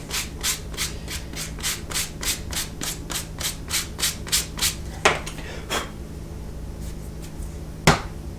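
Sandpaper rubbed over leather for a wallet build, a steady run of about fifteen rhythmic scratchy strokes up close, then a few sharper isolated scrapes after a pause.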